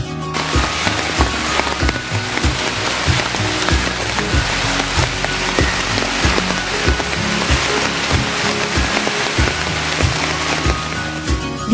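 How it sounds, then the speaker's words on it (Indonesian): Rain pattering steadily at Danau Kaco lake, a dense continuous hiss of drops striking surfaces close by, loud and unbroken with scattered sharper taps. "perdana dan sambutan guyuran hujan kerap menemani"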